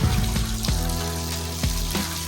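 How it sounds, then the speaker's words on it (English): Water swished and swirled inside a glass jar while rinsing clipper hair from its sides, soft sloshing with a few clinking knocks against the glass. "swish it around, swirl it around, make sure all the water gets all the hair on the side of the glass"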